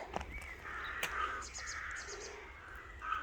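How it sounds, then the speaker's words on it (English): Crows caw from a distance in an old English Norman churchyard, several short harsh calls spread across the moment over a low outdoor background hum, with no talking. "The crows creep me out."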